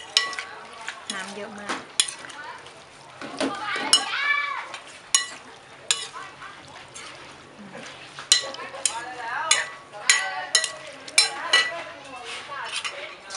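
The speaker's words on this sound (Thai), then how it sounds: "จากนั้นก็คลุกเคล้าให้เข้ากันเลย" A spicy Thai mixed salad with shallots and celery is tossed and stirred, with utensils scraping and clinking against a bowl in irregular bursts while a person talks over it.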